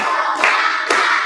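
A class claps hands together in a counted classroom rhythm, a few sharp group claps spaced apart over a steady room murmur.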